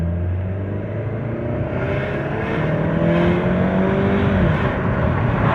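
A 2012 Chrysler 200 2.4 engine roars under full throttle from 0 to 70 km/h, climbing steadily in pitch as it accelerates, loud and continuous from inside the vehicle.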